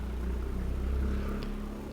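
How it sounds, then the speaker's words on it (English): Loud vehicle engines pass outside an open window, making a steady low rumbling drone that fades slightly toward the end. "will you shut up with your loud engines?"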